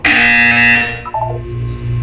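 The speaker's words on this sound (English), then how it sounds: "When you hear the buzzer, look up at the ceiling." A loud, harsh electronic buzzer from the video game Portal 2 blares for about a second, then cuts to a lower tone that fades off.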